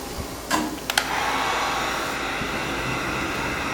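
A heat gun blows warm air over Avery Dennison matte charcoal metallic vinyl wrap on a 2020 Subaru Crosstrek, a steady close whooshing hum after a couple of brief clicks at the start.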